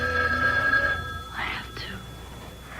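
A telephone bell rings in a room, a bright trilling ring that stops after about a second, followed by soft voices speaking quietly.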